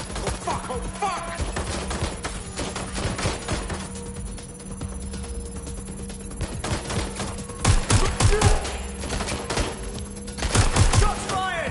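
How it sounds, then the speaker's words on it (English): Constant heavy gunfire from a PS4 video game, dense rapid bursts and machine-gun volleys layered over a droning background, loud and continuous throughout. "Shots fired!"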